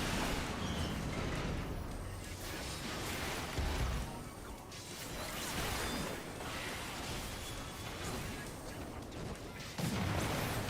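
A missile explosion during a Final Fantasy XIV Alexander raid, rumbling booms and crashing blasts layered over dense, loud game noise that swells and recedes across the stretch.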